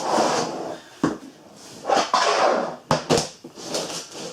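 A hard plastic ABS case for a Browning B725 black edition 12-gauge shotgun being unlatched and opened, with several sharp clicks and thumps of latches and lid among soft handling rustle, close by.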